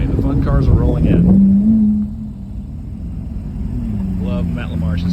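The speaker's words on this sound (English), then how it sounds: "Okay, the fun cars are rolling in." Cars rolling into a Gas, Gears, and Beers monthly social at Wild Heaven Beer West End, engines rumbling nearby as one swells loudly past, then a steady low drone of more arriving, with voices mixed in.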